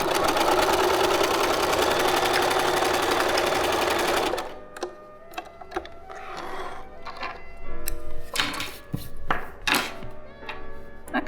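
Sewing machine stitching a sample with a widened zigzag stitch, a fast, loud, steady mechanical whir for about four seconds, then stopping, followed by quieter clicks and handling knocks as the fabric is adjusted.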